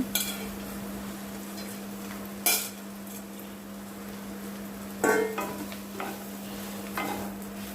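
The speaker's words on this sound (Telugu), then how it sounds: "ఇప్పుడు మొత్తం కలిసేదాకా ఇట్లా కలబెట్టుకోవాలి" A pan of fried egg and chapati pieces being stirred, with quiet steady sizzling under a mains hum and a few sharp utensil scrapes and clinks against the pan.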